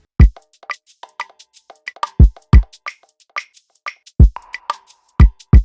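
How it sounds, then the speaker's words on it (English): Afrobeat kick drum pattern programmed in FL Studio: deep, punchy kick thumps in a syncopated bouncing rhythm, with lighter clicky percussion hits between them, dry and close. "A kick pattern."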